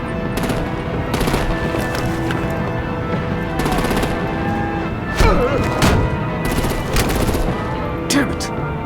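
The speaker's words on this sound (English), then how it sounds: "Break out the artillery and disable their vehicles!" Artillery and machine-gun fire during a battle in the video game Batman: The Enemy Within, loud repeated bursts of rapid shots with heavier thuds between them, mixed with voices and background score.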